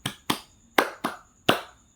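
Five sharp hand claps in an uneven rhythm from a teacher leading a classroom clapping game, close and clear with short silences between them, no voices.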